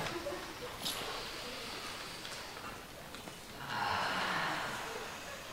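An audience at a TEDx hypnosis talk breathing in together, a soft rushing inhale that swells into a broad, louder collective breath near the end, with faint murmuring room noise throughout.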